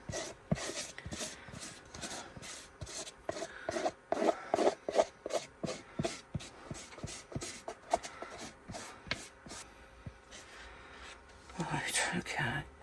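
Material is scraped around inside a mould with a tool in quick, irregular strokes. The rubbing and rasping is close and quiet, with a brief louder scuffle near the end.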